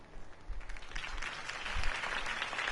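Steady crowd applause in the Batman Telltale video game, many hands clapping at once in a dense, sustained wash of sound with no voices standing out.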